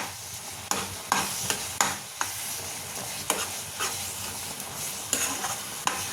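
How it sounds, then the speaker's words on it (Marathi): Carrot halwa stirred continuously in a pan, a spoon scraping and knocking against the metal every second or so over a soft, steady sizzle, close and without speech. "हे असं आपल्याला सतत ढवळत राहायचंय."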